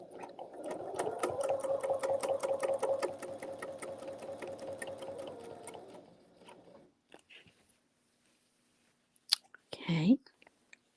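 Sewing machine stitching quilt ruler work, a rapid rhythmic mechanical stitching run of about six seconds that slows and stops, followed by brief handling sounds after a pause.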